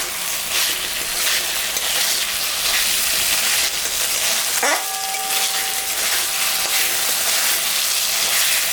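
Potato and vegetable curry with salt, turmeric, ginger, cumin and chili frying in a pan, a loud continuous broadband sizzle throughout with a sharp tonal squeak midway, no voices.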